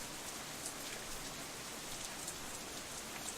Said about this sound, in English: providing a contrast to the chill of this rainy weather.